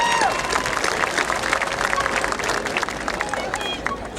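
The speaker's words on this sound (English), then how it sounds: "Let's give them a round of applause." Audience applause at a spring graduation ceremony, a dense steady wash of clapping with some crowd babble and scattered cheers underneath, sustained throughout at fairly close range.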